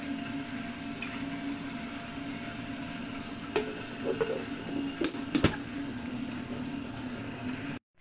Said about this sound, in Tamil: அரிசியை தூணா போல் போட்டு நல்லா கொரப்பாக அரைச்சி எடுங்க